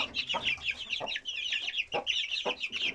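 Several young roosters make high, scratchy crowing and clucking calls, overlapping in quick bursts close to the listener.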